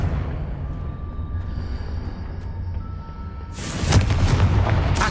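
In the Hogwarts Legacy video game, a Confringo blasting spell goes off: a low rumbling ambience with faint tones breaks into a sudden loud, broad blast that rolls on as a dense roar to the end.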